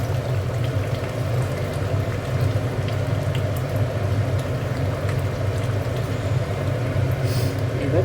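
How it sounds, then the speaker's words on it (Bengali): Cooked fish is poured out of the pan, with a steady, dense sizzle and bubbling hiss that carries evenly and fairly loud throughout, and no voices. "এবার ঢেলে নেব মাছটা।"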